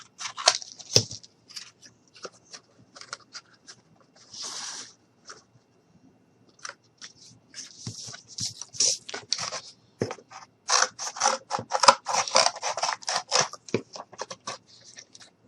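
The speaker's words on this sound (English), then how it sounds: "I'm just going to cut off a little more, and I'm just going to cut off a little here." Material being cut for a mini truck model, bursts of crisp snipping and scraping in irregular clusters, close and fairly loud, with quiet gaps between the cuts.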